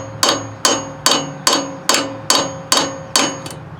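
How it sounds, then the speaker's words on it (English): A hammer taps a nut driver seven times in steady rhythm to reset a valve guide on a seized Kohler Courage engine from a Craftsman LT2000 mower, each strike a sharp, close metallic clink with no talk. "tap on this with a hammer, and hopefully that valve guide will reset in there"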